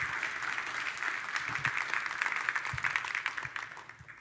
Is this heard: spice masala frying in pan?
no